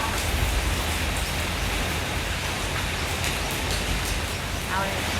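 Steady dense rain hisses continuously, close and loud, with a faint voice barely audible beneath it.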